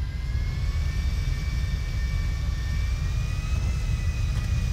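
In Grand Theft Auto V, an airplane engine roars with a steady, loud rumble and a faint high whine drifting slowly upward, close and unbroken with no talk.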